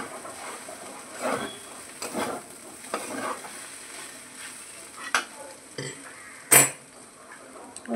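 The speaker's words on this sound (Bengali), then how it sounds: "একটু নাড়াচাড়া করে বাদামগুলি দিয়ে দেবো" Noodles with peanuts are stirred in a hot pan for a quick breakfast, with a soft sizzle under repeated scraping and clinking of a utensil against metal and a few sharper knocks.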